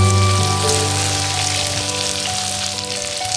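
Fried bitter gourd and potato dropped into a hot spice paste with oil, producing a loud, steady, close sizzle that fills the whole stretch without letting up.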